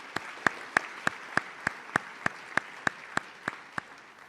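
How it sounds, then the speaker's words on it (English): An awards-night audience at a high school ceremony applauds the Junior Special Award recipients, though here the sound is a slow, steady series of about thirteen evenly spaced single claps rather than a full crowd roar. "Another round of applause for the recipients of our Junior Special Awards."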